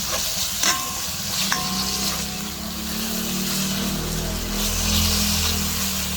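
Ground pork sizzles and fries steadily in a pan, a continuous loud crackle with a couple of sharp stirring knocks against the pan.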